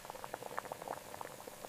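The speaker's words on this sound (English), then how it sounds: "Flash frying, this is the preservation step. We boil out the water instantly." Cup noodle blocks flash frying in hot oil in a large factory, a steady close bubbling and crackling patter with quick irregular pops and no voices.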